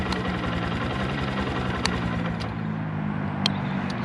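A 2022 Honda CB125F motorcycle idles with a steady, even engine hum and a few faint ticks, close by and continuous throughout, with no talking.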